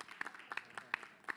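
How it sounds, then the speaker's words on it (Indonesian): Scattered, faint handclaps rise from an audience at an Islamic religious talk program, a few sharp separate claps spaced irregularly against a quiet room rather than a full ovation. "Tepuk tangan dong."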